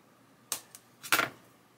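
A piece of plastic being cut during a chassis build, giving a few quick, close snipping or cracking clicks in two short clusters against a quiet background.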